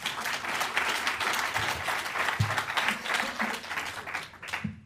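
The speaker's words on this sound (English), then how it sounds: "That deserves a round of applause." Sustained applause from a crowd at a live technical meetup in London, dense steady clapping filling the whole stretch without any clear voices.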